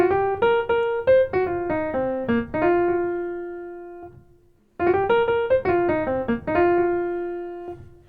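A blues scale lick on piano, a quick run of clear, close notes that rises and falls and is played twice, with a brief near-silent pause between the two passes.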